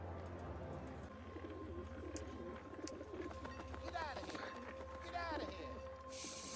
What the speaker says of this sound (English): The pigeons now.